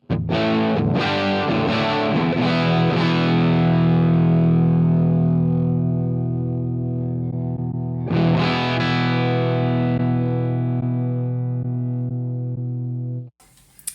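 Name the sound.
electric guitar through Marshall amp model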